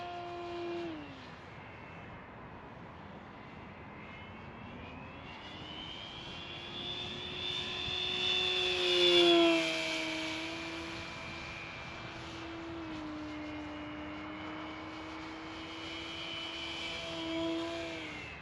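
An E-Flite Extra 300 RC airplane sport-flies at low rates, its electric motor whining and shifting pitch as it passes, rising to a louder sweep near the middle before easing back, with no voices.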